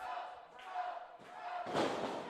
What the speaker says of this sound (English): Crowd getting behind Brohemoth.